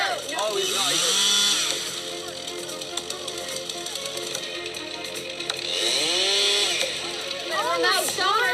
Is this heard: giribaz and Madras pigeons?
no